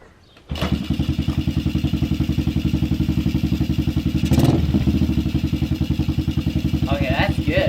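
A pit bike motorcycle engine kicks into life after a short silence, then idles low and steady with a fast, even putter close by, a brief rise in the middle before settling back to the same idle.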